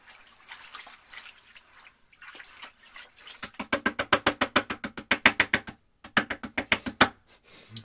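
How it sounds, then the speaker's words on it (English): An oil painting brush is rinsed in water, giving a quick run of close, rhythmic sloshing and dripping splashes after a few seconds of quieter liquid movement, with one brief pause. "Let's clean off the brush now."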